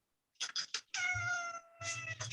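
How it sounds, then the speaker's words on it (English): A cat meows several times close by: a few short calls, then a long drawn-out meow and more brief ones, heard indoors over a quiet background. "Shut up, cat."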